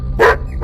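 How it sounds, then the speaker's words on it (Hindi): A dog barks sharply twice as a sound effect in a horror story set outside a long-closed church, two close, loud barks separated by a brief gap, with no talk over them. "एक कुत्ता तेजी से भौंक रहा था।"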